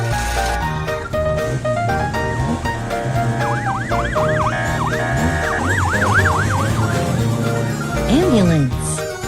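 A toy ambulance plays a warbling electronic siren over loud, busy background music, the wailing pitch sweeps repeating in bursts.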